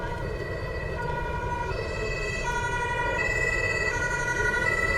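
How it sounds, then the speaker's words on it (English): A German police siren in Train Sim World wails steadily at a moderate distance, its rising and falling tones layered over a constant rumble of street traffic. "Oh, there's a German police siren."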